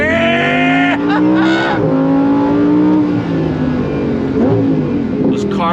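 Lamborghini Huracan Sterrato V10 on off-road all-terrain tires revs hard, with quick downshift blips and rising pulls. The engine roars loud and close beneath an excited voice.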